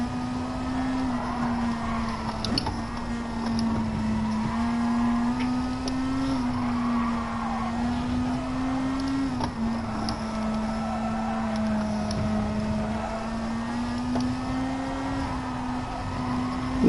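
Race car engines in a racing video game hum on a sustained mid-pitched tone that wavers gently as the revs shift, loud and steady throughout, with no voices.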